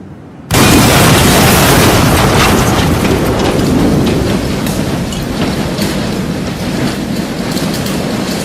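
A test detonation of an explosive charge sets off a sudden, very loud blast that settles into a long, heavy roar and rumble lasting several seconds, with no voices over it.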